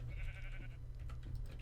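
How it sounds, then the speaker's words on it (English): Sheep bleating in the Minecraft world, a wavering bleat early on that fades out, set over a steady low in-game drone. "Hello, sheep."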